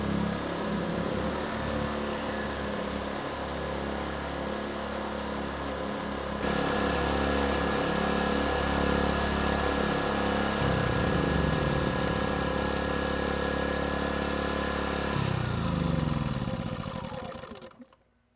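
Several ERAYAK 4500W dual-fuel inverter generator engines idle together in a steady mechanical drone, rising slightly partway through, then shutting down and winding off at the end.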